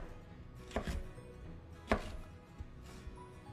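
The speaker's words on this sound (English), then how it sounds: "Now with each of our sides, go ahead and make some thin strips or slices" A knife slices bell pepper into thin strips on a cutting board, giving a few sharp, separate cuts spaced unevenly and heard up close against quiet surroundings.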